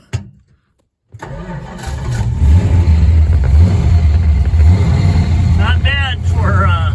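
After a choke pull and a couple of pedal pumps, an old Crossram car engine cranks briefly and catches, settling into a loud, rough, steady idle that runs on; a voice speaks faintly over it near the end.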